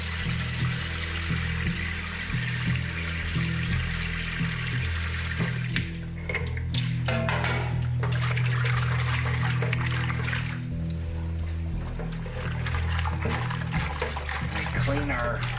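Water runs from a tap while a cooking pan is rinsed, a continuous close splashing stream with a low hum beneath it and no talking.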